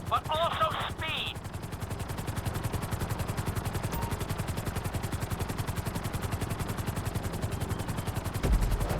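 Steady rapid rotor chop of a helicopter in GTA V flight school, close and constant throughout, with a brief electronic chime near the start and a small thump near the end.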